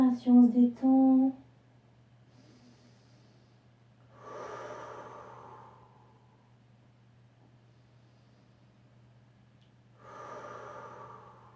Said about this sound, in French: On prend des grandes respirations, on se détend